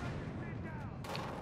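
Shotgun fire in Battlefield Hardline booms over a dense, rumbling game soundscape, with one sharp blast standing out near the end of the short stretch.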